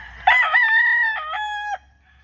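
A Kelso gamefowl rooster at a game farm gives a single clear, close crow, a bright drawn-out call of about a second and a half over a quiet background.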